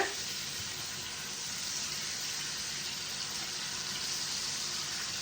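Blackened cod fillets sizzle steadily in a hot pan as they are flipped, giving a soft, even frying hiss throughout with no talking.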